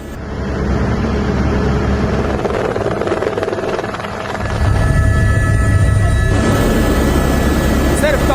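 A helicopter flies over a flood-ravaged area in Nepal, its steady loud rotor and engine drone filling the scene while a voice speaks over it.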